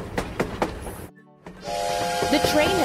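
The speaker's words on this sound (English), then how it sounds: "The train has arrived." In a cartoon train video game, a train arrives with rhythmic clacks, then a short pause, then a long steamy hiss and a whistle-like tone over game music.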